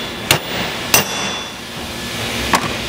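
Three sharp metallic hammer taps on a VW transaxle part, spaced irregularly over a low background hum, each a short close clank, with no voices.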